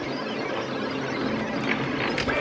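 A Cameo 5 cutting machine runs quietly, a steady soft whirring hum with faint high squeaks, continuous and close, with no talking.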